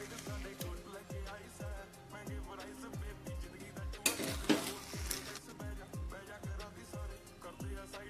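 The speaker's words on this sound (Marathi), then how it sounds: "छान असं हलवूया." A spoon stirs sweet lapshi with cardamom and fennel powder in a pan, making a steady rhythmic series of scraping strokes over a soft sizzle, with a brief louder clatter midway.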